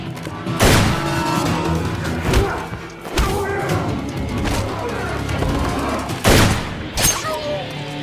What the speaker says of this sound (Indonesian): John pun mengancam Stanley dengan senapan dan kemudian pertarungan antar keduanya pun terjadi.